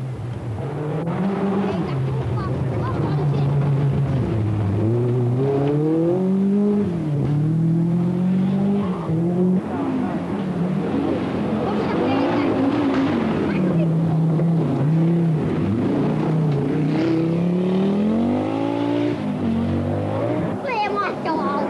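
Group N rally cars racing along a stage at the 1984 Jyväskylä rally in Finland, their engines droning and revving up and down under continuous narration.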